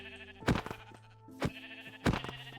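Sheep in the Minecraft video game bleat three times in a row, each call short and fairly close, spaced about a second apart over a low, steady game background with no talking.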